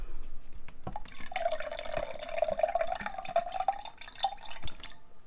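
Water poured from a container onto paper towels in a homemade stay-wet palette for acrylic paint, a steady close trickle with small splashes and drips that runs for a few seconds and then stops.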